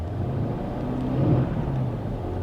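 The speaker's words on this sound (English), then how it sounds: "It's been running great, and now it's starting to misfire." A Dodge Ram truck engine idling with a misfire, a loud, close, steady low rumble that swells briefly in the middle and carries a slightly uneven texture throughout, with no voices.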